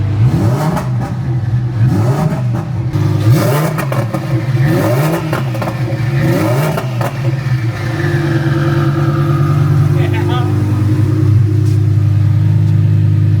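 A twin-turbo Lamborghini engine, limited to 4000 RPM, revs repeatedly in rising and falling sweeps, then holds at a steady higher pitch, loud and close, with no talking.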